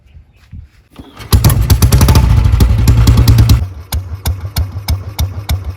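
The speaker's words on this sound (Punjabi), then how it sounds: "ਟਰੈਕਟਰ ਵਾਲਾ ਸਲਾਂਸਰ ਲਾ ਕੇ ਕਿੱਦਾਂ ਲੱਗਦਾ" A Bullet motorcycle fitted with a tractor silencer exhaust cranks and roars to life loudly, then settles into a deep, thumping, uneven idle close by.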